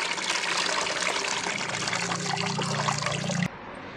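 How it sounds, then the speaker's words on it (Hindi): Water poured off from soaked lentils (dal) being drained, a steady splashing trickle for about three and a half seconds that stops abruptly, with no talk. "तो दोस्तों इसका पानी भी फेंक देती हूँ।"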